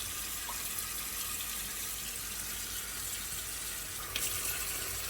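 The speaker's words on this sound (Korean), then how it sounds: "이렇게 흐르는 물에 한 대씩 씻어 주시면서 기름이 보이면 기름을 조금 제거해 주세요" Tap water runs steadily into a sink while beef short ribs for braised galbi-jjim are rinsed one by one. The flow is an even, constant hiss with a faint knock near the end.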